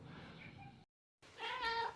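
Cat meowing close by for meat, one meow drawn out and then a brief silence before a louder, longer meow.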